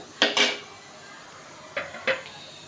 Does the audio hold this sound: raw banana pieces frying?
yes